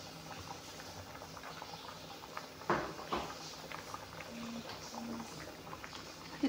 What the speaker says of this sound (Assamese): অলপমান টাইম উতল আহিব দিম